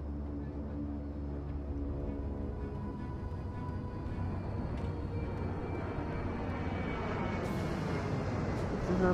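Engines of a Y-8 military transport aircraft run with a steady loud droning roar and tonal hum, building slightly toward the end, heard alone without talk.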